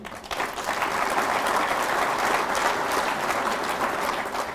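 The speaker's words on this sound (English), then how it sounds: "I'm glad to see all of you clap." Sustained audience applause fills the room at a Rotary gathering, a dense, steady wash of many hands clapping together with no voices over it.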